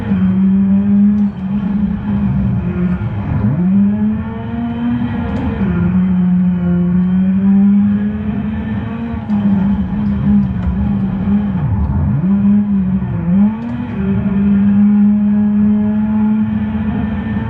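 A rallycross car at the Lessay circuit in France holds a steady, droning engine note with brief dips and swoops as weight shifts through a corner, loud and continuous with no voices.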